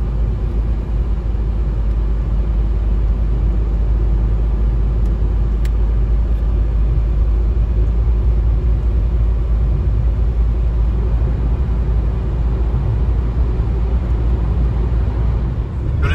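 A car drives along the road toward Kemer in Antalya, producing a loud, constant low rumble of engine and tyres from inside the cabin. The drone is steady and unbroken, with no talking.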